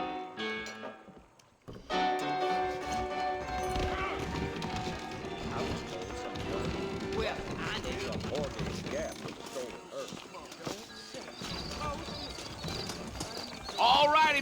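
Horse hooves clip-clop in the Western video game Red Dead Redemption, steady hoofbeats under music and characters talking, with an occasional whinny.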